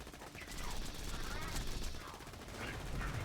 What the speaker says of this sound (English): Just shoot him until he dies.